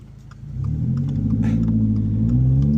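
A car's engine turning over on a cold start, catching quickly and settling into a loud, steady, deep rumbling idle that stays close and constant.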